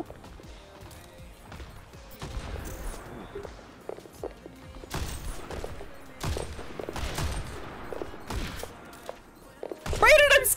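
Bursts of gunfire in the Overwatch video game, with scattered shots and rapid volleys across the clip and a louder flurry near the end, under intermittent talk from players.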